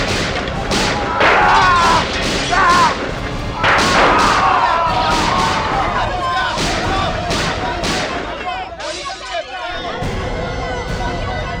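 Gunfire erupts during a police raid in a TV crime drama: a run of sharp, loud shots and heavy thuds repeats over several seconds, with voices shouting beneath, before a brief lull and a final burst.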